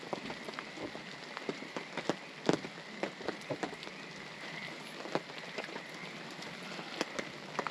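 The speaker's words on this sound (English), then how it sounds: "this rain is something else" Heavy rain pours steadily at a Pacific Northwest campsite, drumming on a camper awning and tarp, with sharp drops and splatters landing close by over a constant hiss.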